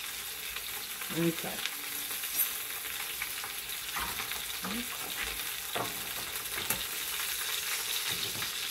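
Honey garlic lamb chops fry in a pan with a constant sizzle, broken by occasional utensil scrapes and taps, and a brief spoken word partway through.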